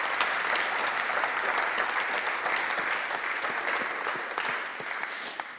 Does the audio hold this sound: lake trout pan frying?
no